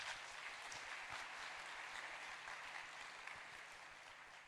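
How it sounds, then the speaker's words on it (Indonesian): Audience applause at a community gathering, a steady wash of many hands clapping, fairly distant and fading slightly toward the end, with no voices over it. "Boleh tepuk tangan ya semuanya."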